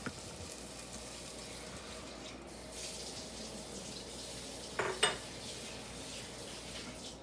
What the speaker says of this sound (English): Can you hear that sizzle now?